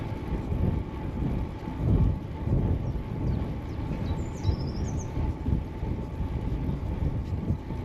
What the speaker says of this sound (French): Mais le vent un peu forci